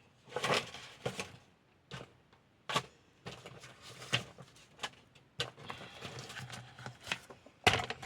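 Scissors snipping through a paper heart photo for a Valentine's hanging decoration, a series of close, crisp cuts in an irregular rhythm with short pauses between them.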